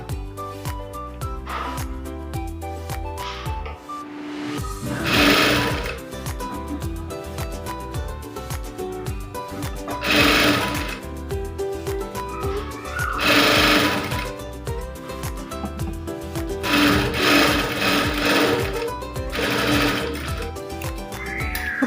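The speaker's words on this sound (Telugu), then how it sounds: "అదే స్టిచ్ పైననే మనము స్టిచ్ వేసుకుంటే సరిపోతుంది" A sewing machine stitches the front part of a blouse, running in repeated loud bursts of rapid mechanical whirring with short pauses between runs, close up and without talk.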